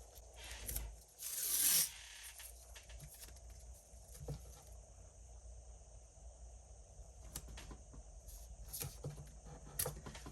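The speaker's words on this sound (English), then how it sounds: "I'll just overlap the edges a very little bit, and then I will just tape it down." Paper tape pulled and pressed down over slightly overlapping paper edges on a handmade storybook journal: a quick ripping burst of tape early on, then soft scattered taps and rubs, close and faint.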